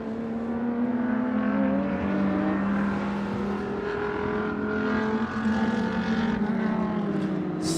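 The number 89 Ferrari GT race car of Sing Motorsports Team Thailand lapping the circuit during GT Asia qualifying, a loud sustained engine drone with shifting pitch as it holds speed, heard alone without talk.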